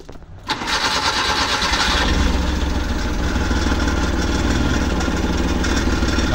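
A Rusco multicab with a hard-starting problem cranks briefly, then its engine catches and runs at a steady close idle with no voices over it.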